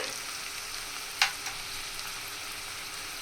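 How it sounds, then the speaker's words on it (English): Onion, chopped ginger and garlic sautéing in a heated wok, a soft steady sizzle with one brief clatter of a utensil stirring, close and quiet throughout. "chopped garlic and saute it thoroughly"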